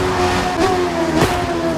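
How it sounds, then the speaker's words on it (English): A car in the racing game The Crew 2 drones through its engine tone, with two sharp exhaust pops as it shifts gears. The bangs stand out clearly and close over the steady engine hum. "those crazy exhaust bangs when you're shifting gears"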